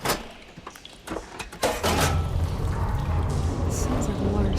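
Water flow switches inside machinery in Horizon Forbidden West: a few clanks and knocks give way to a steady rushing, pouring flow that continues loud and unbroken.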